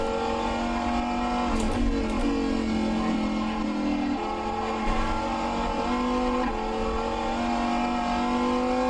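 A hypercar in rFactor 2 drives hard with a loud, sustained engine note that rises and falls through gear changes. There are brief tire noises, and it plays steadily with no talking.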